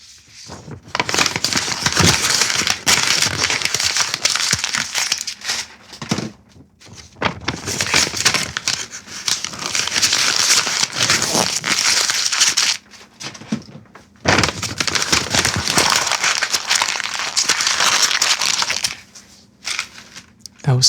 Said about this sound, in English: That was several sheets of paper being crushed.